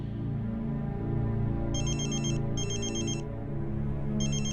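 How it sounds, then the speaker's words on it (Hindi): A phone rings with an incoming call, three bursts of a bright electronic ringtone over a steady low background music bed. "12 बजे अंतरा के फोन पर रुद्र का कॉल आया।"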